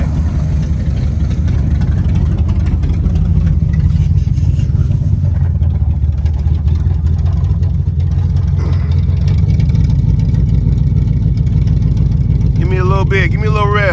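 A 1967 Pontiac 2+2 with a 428 HO V8 idles from behind the car, giving a loud, steady, deep exhaust rumble throughout, with faint voices under the engine noise.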